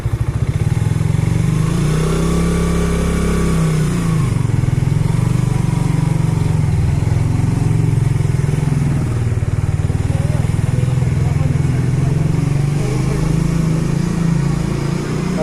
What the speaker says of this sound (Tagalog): Mabilis yung motor.